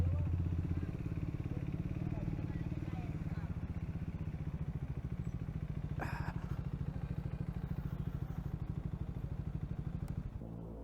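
A Triumph Scrambler 400 X motorcycle on a test ride rumbles with a low, pulsing single-cylinder engine at cruising speed, a steady throbbing drone with a brief clatter midway, while a rider talks over it.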